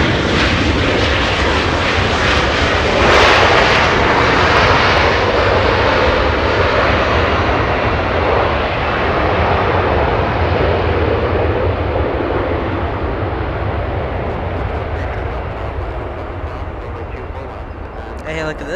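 A Philippine Airlines Boeing 747, a four-engine jumbo jet, departs Los Angeles International with a loud, close engine roar that peaks early and then slowly recedes and fades toward the end. Voices are heard over the engines.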